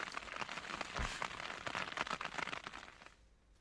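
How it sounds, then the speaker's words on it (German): Patter of rain falling close by on a bivouac sack, a dense crackly rush of drops that fades toward the end. "Ich wollte den Biwaksack eh mal richtig schön bei Regen austesten."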